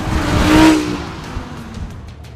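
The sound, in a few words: Audi R8 V10 Plus driving fast on racetrack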